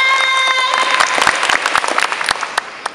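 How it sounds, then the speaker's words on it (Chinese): Audience applause for a county magistrate at a World Book Day event, loud clapping that bursts in right after a short musical chime and then thins to scattered claps. "给县长最有魅力的掌声。"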